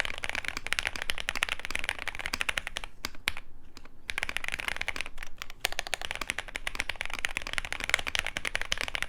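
Fast clacking keystrokes on a custom mechanical keyboard with a poron-style foam mod, a dense close rattle of typing with a brief pause in the middle before resuming.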